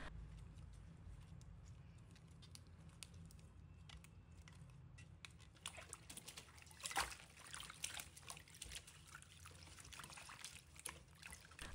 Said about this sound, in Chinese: 要逐根掰开叶片根部，仔细冲洗每一处褶皱，将暗藏其中的泥沙彻底清除